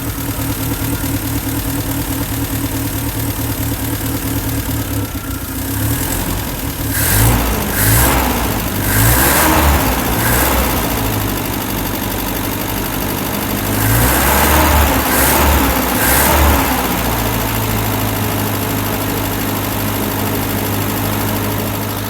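Land Rover Series 3 engine newly brought back to life, idling steadily then revving up in two bursts before settling back to idle, loud and close with no talk.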